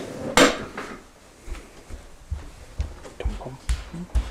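Risen mesquite bread dough moved into an oven onto a preheated pizza stone, with clanking of pans, metal knocks and scraping handled close by in a kitchen.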